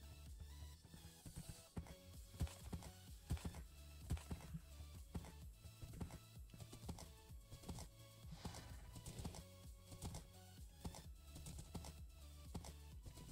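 A white horse's hooves clip-clopping over snow in the game World Hoppers, a quick rhythmic stream of hoofbeats with an occasional whinny, alongside keyboard tapping and no speech.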